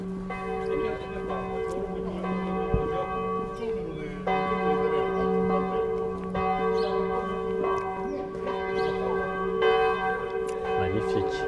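Church bells of a village church in Saint-Luc ring out to welcome visitors, a sustained peal of overlapping strikes with long humming resonance, loud and continuous throughout.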